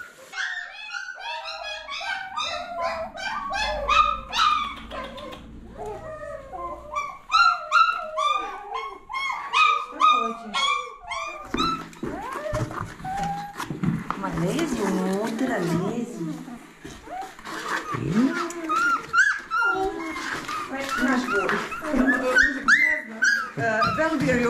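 Puppies whimper and yip in high, rapid bursts, close and busy, with people talking over the litter for much of the time.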